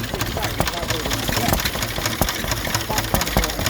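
A stationary engine runs steadily at a Victorian extravaganza show in Llandudno, with a fast, even chugging beat and clattering valve gear heard up close, loud and continuous, while people talk faintly nearby.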